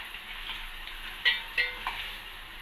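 Cumin seeds fry in oil in a pan for an ivy gourd curry, giving a soft, steady sizzle with a few faint clicks of stirring, heard up close and quiet.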